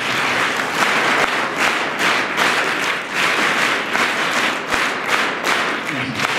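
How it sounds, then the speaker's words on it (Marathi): Audience at a children's literature gathering clapping together in a repeated one-two-three pattern, a dense steady wash of many hands filling the room. "ही 1 2 3 1 2 3 1 2 3 अशा टाळ्या वाजवायच्या."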